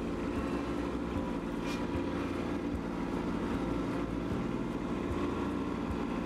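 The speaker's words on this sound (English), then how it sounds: "Next, I move the tractor backward until the log falls into place." Kubota B2601 compact tractor with a Land Pride grapple reversing while handling logs: a steady low diesel engine drone runs throughout at even loudness, with faint knocks and shifts in pitch as it moves.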